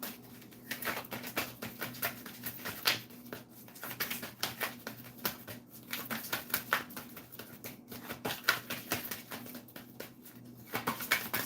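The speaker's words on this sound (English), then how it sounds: "Two more shuffles and I'll pull from the top." A deck of tarot cards being shuffled over and over, a close, continuous rhythm of crisp papery slaps and flutters against a low steady hum, with no voices.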